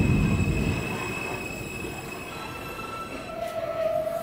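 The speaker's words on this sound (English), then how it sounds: "we got a Kawasaki R160 on the Q line" A Kawasaki R160 subway train on the NYC Q line rumbles past steadily at close range, its wheels squealing with a sustained high metallic whine and a sharper squeal rising near the end.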